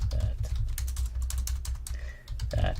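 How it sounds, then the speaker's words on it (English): Fast, uneven keystrokes on a computer keyboard during a livestream, a close run of clicky taps with a brief pause before the typing resumes. "I'm just typing horribly"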